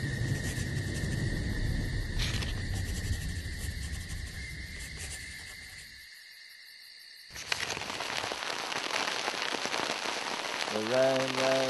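Rain in a forest falls as a steady, dense patter with a high insect-like hiss, briefly dropping away before returning loud and close.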